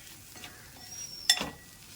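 Chilli powder and spices are stirred and fried in a pan for an egg roast, with a faint sizzle and a brief scrape and clink of the spoon against the pan.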